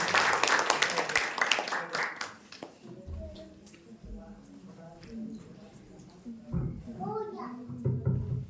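Audience applause at a Brahma Kumaris spiritual class rises briefly and loudly at the start, then dies away into quieter talk with a voice in the background.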